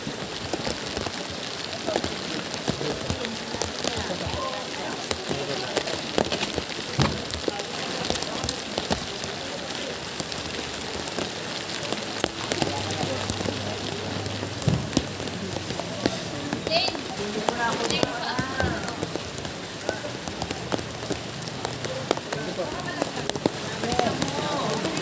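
Steady heavy rain patters on a surface throughout, with a voice speaking Filipino over it at times and occasional louder splashes.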